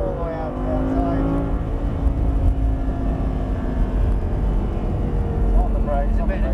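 An Audi R8 V10 race car engine drones and rises in pitch under acceleration, roaring steadily with heavy rumble throughout, while a voice talks over it.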